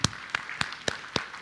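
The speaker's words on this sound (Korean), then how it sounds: "우리 축복의 박수 하겠습니다." A small church congregation at a Sunday worship service gives sparse, slow applause of about five distinct claps, fairly faint and spaced out, with no talk over them.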